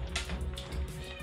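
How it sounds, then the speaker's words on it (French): A house cat meows at the door with short, faint cries over a steady low hum, set back in a quiet room. "Attends, je vais ouvrir au chat."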